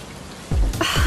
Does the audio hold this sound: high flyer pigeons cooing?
no